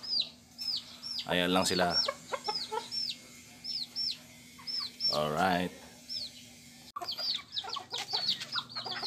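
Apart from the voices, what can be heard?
native chickens clucking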